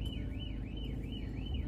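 A car alarm wails continuously nearby with a smooth rising-and-falling siren sweep repeating steadily, heard from inside a car at a fast-food drive-thru over a low engine rumble.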